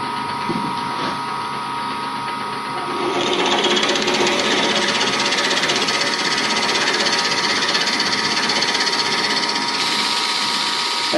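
Wood on a lathe being bored with a depth hole, a steady whirring drill-and-motor grind that swells louder after a few seconds and runs continuously, close and fairly loud.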